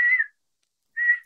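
A person whistles to imitate a whistle heard right next to the ear at night, giving two short, clear whistles about a second apart, close and fairly loud with silence between them.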